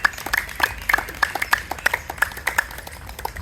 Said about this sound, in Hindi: एक बार तालियां भी लगा दीजिए।